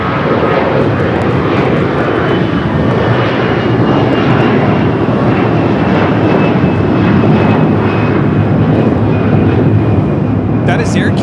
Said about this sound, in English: That is Air Canada 788 taking off to Toronto on the A321.